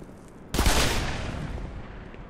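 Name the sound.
enemy soldier shooting in video game Black Mesa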